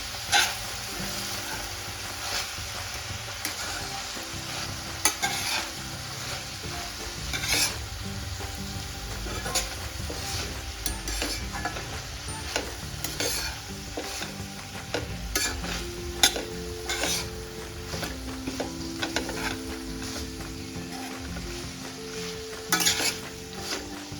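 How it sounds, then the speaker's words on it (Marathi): Hyacinth bean pods with homemade spice masala are stir-fried in a pan, giving a steady close sizzle broken by repeated spoon scrapes and clatters against the pan, with no voices. "आणि आता पुन्हा परतून घ्यायचं आपण।"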